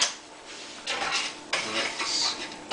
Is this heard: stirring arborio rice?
yes